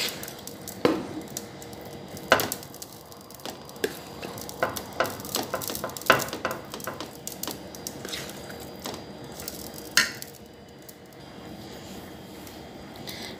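Bread pudding batter spread over sliced bananas in a baking pan, heard as soft wet scraping and squishing with scattered light taps of a utensil against the pan, fairly quiet and irregular.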